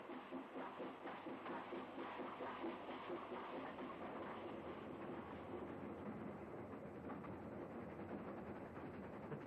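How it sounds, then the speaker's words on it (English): A 1970s Indian passenger train, the afternoon service from Shantipoor to Krishnagar, runs over rough track, giving a steady rumble and continuous rattling of the carriages, fairly quiet and without talk. "The afternoon train for Krishnagar sets out from Shantipoor"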